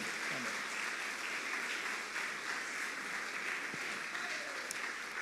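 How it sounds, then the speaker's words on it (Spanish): Congregation applause in a church service, a dense, steady wash of clapping from many people that holds evenly throughout, with no one speaking over it. "Démosle ese aplauso a Jesús."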